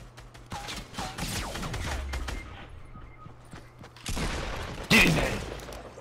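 Fortnite gunfire with rapid bursts of shots crackling through the opening seconds, then a louder burst and a heavy boom near the end, with a voice briefly talking amid the fight.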